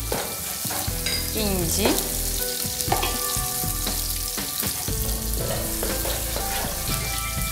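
Prawn biriyani masala sizzles loudly in a pan while a spoon stirs and scrapes through it, with clanks against the pan edge and a short spoken word over the frying.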